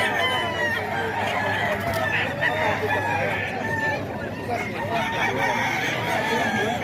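A large stag rooster, a Thompson White, crows amid the hubbub of a crowded cockfighting market, its calls rising above a busy background of voices and other fowl clucking nearby.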